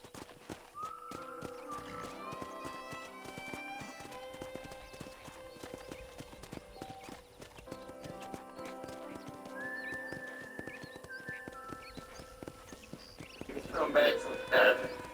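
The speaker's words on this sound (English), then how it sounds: "let's see if you can still ride a horse" Hooves clip-clopping at a steady walk with a horse whinnying in the video game Red Dead Redemption, a soft musical backdrop, and a louder burst of noise near the end.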